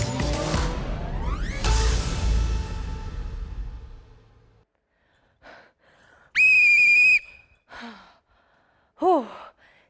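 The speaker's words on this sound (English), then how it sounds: "This is just a small whistle" A heavy exhale and breathy sounds are followed by a loud, sharp whistle blast lasting under a second, then a shorter whistle toot.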